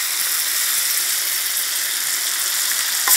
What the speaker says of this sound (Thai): แล้วก็ผัดให้เข้ากัน